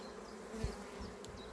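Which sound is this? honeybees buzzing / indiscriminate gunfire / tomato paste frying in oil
honeybees buzzing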